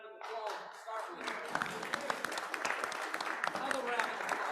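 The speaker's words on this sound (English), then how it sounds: "Let's have a round of applause to start with." A room full of people at a Kiwanis club Christmas music program gives a round of applause: dense, steady clapping from many hands, with voices chattering underneath throughout.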